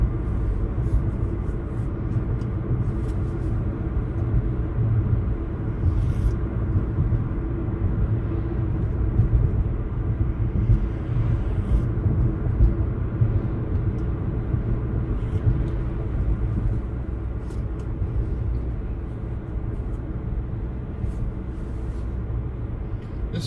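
A car cruises along a road in Connecticut, a steady low engine and tire rumble droning evenly throughout with no voices.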